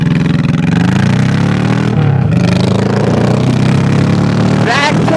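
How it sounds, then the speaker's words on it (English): A Honda Shadow 1100 bobber motorcycle engine roars loudly under wind rush while riding, the throttle rising and then dropping as it is chopped, with a voice briefly in the mix. "I love chopping that throttle like that"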